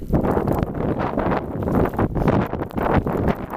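Strong wind roars in steady gusts against the microphone during a 2016 Philadelphia snow blizzard, loud and close, with a constant rushing buffet and no talking.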